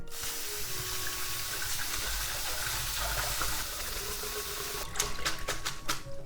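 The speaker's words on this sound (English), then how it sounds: "Then we want to cool this with running water so it doesn't get cooked further." Tap water runs steadily into a sink with a hissing gush, rinsing noodles, followed near the end by a few sharp clatters.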